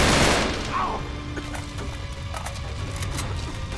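Bursts of gunfire rattle through the video game Uncharted 3, a loud blast at the start followed by a dense, continuous crackle of shots and impacts.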